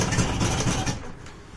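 An old outboard motor fires up at full throttle, a steady mid-pitched engine drone running loud for about a second before easing off and fading a little.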